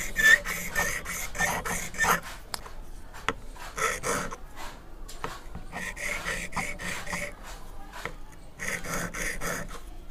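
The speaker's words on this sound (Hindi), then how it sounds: "पथरी को पलट लेने के बाद कुछ इस तरह से सॉफ्ट हाथ से इसकी फाइनल धार को लगा लेना है" A carpenter's tool rasps back and forth across a whetstone in repeated strokes, close and fairly quiet, each stroke a gritty scraping burst with short pauses between.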